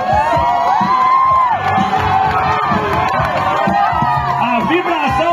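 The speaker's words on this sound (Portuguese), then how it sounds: "A vibração na torcida do Pará aí, pessoal, é contagiante." Pará supporters cheer and shout loudly and continuously at a firefighter competition in Gramado, the crowd noise dense and excited throughout, with a commentator's voice mixed in.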